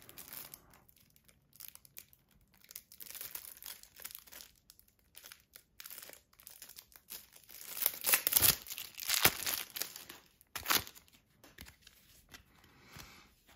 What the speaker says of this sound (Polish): Otwórzmy karty dużego formatu.